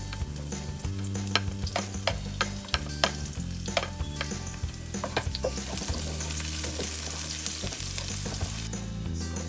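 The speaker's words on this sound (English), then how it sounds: "Add the garlic to infuse the flavor in the oil." Garlic sizzles in hot oil with mixed vegetables, a steady close crackle punctuated by sharp pops and spatters, occasional utensil clicks, with a faint background hum and no speech.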